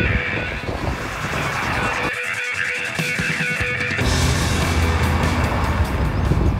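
A 2020 Honda City sedan with a 1.5-litre petrol engine driving on smooth roads in Noida, a loud continuous rush of road and wind noise with an engine hum underneath, briefly dipping midway before resuming.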